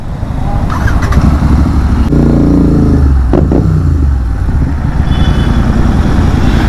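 Royal Enfield GT650 motorcycle with an aftermarket exhaust, its engine loud and close with a rough idle that swells into deep revving bursts midway, running steadily throughout.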